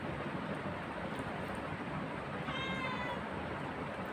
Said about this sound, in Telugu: మా పిల్లికి కూడా ఆకలేసి వస్తుంది